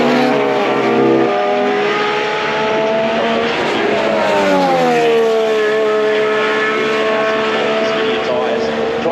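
A Formula 1 car passes Turn 1 during practice at the 2026 Australian Grand Prix, its loud high engine note rising and then sweeping down as it goes by, with commentary over the track audio.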